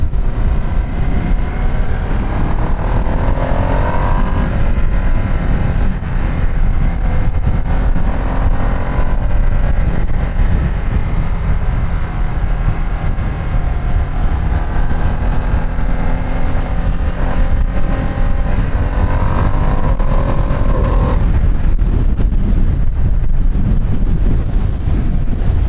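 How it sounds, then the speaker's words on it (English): Ducati Multistrada V2 S motorcycles ride past over steady wind buffeting, their engine tones rising and falling as they go by at a loud, close distance with no talk. "Yes, these bikes are passing. Like I said, these are the Multistradas V2S."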